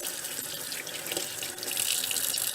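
Tap water runs steadily into a sink while freshly cleaned squirrel meat is rinsed under it, a continuous close hiss that swells slightly louder toward the end.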